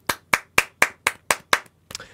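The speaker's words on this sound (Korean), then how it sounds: "박수입니다." Studio hosts clap in a quick steady burst of about seven sharp, close claps, ending with a brief ragged clap and a short vocal sound.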